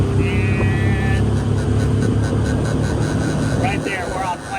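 1971 13ft Boston Whaler motorboat accelerating onto plane, a loud steady engine drone with rushing water, heard close up with brief tonal whines.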